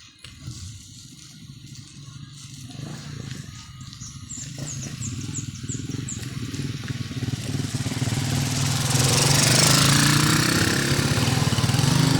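Motorcycle engine running outdoors on wet, muddy ground, a steady low rumble that grows louder and nearer toward the end, with faint chirps above and no talk.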